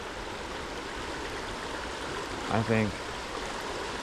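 Steady broadband rush of a gorgeous Ohio creek flowing where fly fishing with a popper happens, continuous and even throughout, with a brief spoken word near the end.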